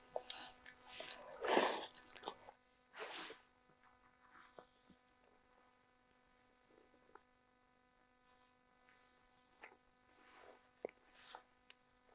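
Someone eats stir-fried ramen noodles at a winter campsite: soft, close chewing and slurping sounds come in short bursts over a steady electrical hum, with long quiet stretches between them.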